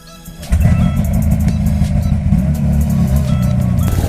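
Snowmobile engine firing up and running steadily on a ride through fresh snow, a loud low rumbling drone that jumps in after a quiet start and holds near, no voices.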